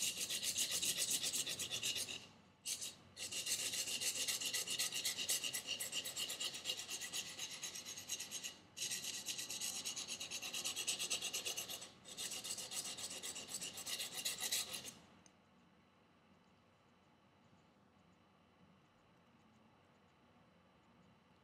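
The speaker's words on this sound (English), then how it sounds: "about 40 degrees on both sides while you are doing this stropping," Knife edge sanded for convex reprofiling, a loud, steady raspy rubbing in long continuous strokes broken by brief pauses, then stopping and leaving near silence.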